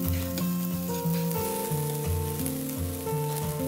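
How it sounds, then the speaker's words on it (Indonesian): Chili and spices stir-fry in a little oil in a wok, a steady close sizzle with scraping stirs cycling underneath, no talking. "Kita tumis dengan sedikit minyak."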